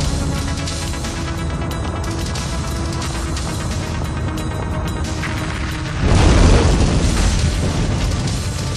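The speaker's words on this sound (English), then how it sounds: "As it drifts helplessly to the earth, the F-4 explodes into a fire." An F-4 jet fighter explodes into fire after crashing at an air show, a loud sustained roaring blast that swells into a heavier boom partway through, with no voices.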